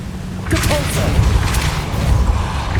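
A Depulso force spell fires in Hogwarts Legacy, giving a loud booming burst with crackling bright edges and a few sharp cracks over a rumbling low bed, repeating in quick pulses across about three seconds.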